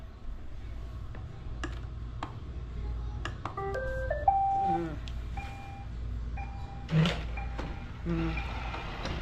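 A robot vacuum cleaner starts up on a floor, playing a short electronic jingle of rising and falling beeps over a low steady hum, followed by a few scattered clicks and tones.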